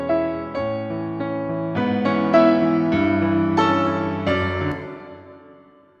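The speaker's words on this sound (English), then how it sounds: "send that to my MX receive, and again pre-fade, and let's bleed in this cathedral." Layered tonal music of sustained chords swelling and fading, with a long, spacious cathedral reverb tail that lingers and decays after the final notes, in 5.1 surround.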